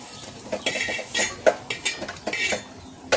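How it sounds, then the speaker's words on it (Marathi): Fried bhaji fritters being lifted out of a frying pan, with repeated clinks and scrapes of a metal utensil against the pan in an irregular rhythm, close and moderately loud with no talking. "आता हे मसाला एका बाजूला काढते आणि भजे काढून घेते."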